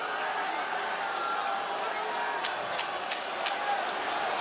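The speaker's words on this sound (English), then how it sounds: "The crowd cheering this one home." An arena crowd roars steadily at a women's MMA bout between Manon Fiorot and Rose Namajunas, a dense distant wash of cheering under commentators' voices.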